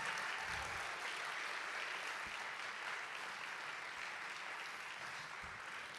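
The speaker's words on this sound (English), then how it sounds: "Please give her a round of applause." A school band concert audience at North Allegheny applauds, producing a steady, fairly distant patter of many hands clapping that holds evenly throughout.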